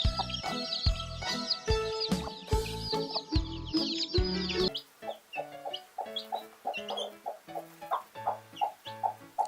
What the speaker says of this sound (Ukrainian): до нас завітала квочка та курчата